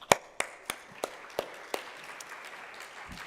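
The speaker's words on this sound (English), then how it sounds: "Round of applause for Sean." A few loud, separate claps ring out at an even pace and fade to a faint patter, audience applause for Sean at a charity gala ball.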